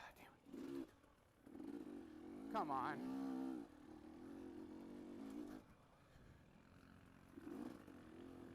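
A dirt bike engine lugs at low revs during an Open D harescramble race, a throaty drone with one brief rising rev in the middle, while the rider briefly speaks over it.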